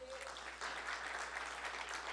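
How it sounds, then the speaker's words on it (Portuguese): Church congregation applauds together, a broad steady wash of many hands clapping with no gaps, moderately quiet and sustained for about two seconds. "Vamos dar uma salva de palmas ao Senhor por isso."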